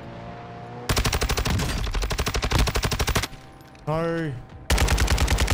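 Rapid automatic gunfire from a Warzone match, loud dense bursts that start abruptly, pause briefly, and return for several more sustained volleys with a short whooshing sweep between them.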